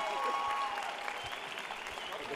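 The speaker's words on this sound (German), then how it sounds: "Einen fetten Applaus für den Mut und für die Leistung." Audience applause at a YuniCon 2022 Sunday award ceremony, a fairly quiet, even patter of many hands clapping, with a brief faint tone near the start.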